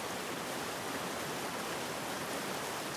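The Otter Tail River rushes beneath a hiking trail bridge in the Rockies, a dense, even broadband hiss of flowing water, steady and close, with no voices.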